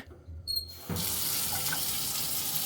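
A kitchen sink faucet is turned on after a brief near-silent moment and then runs in a steady, close, full gush of water to the end, with no talking.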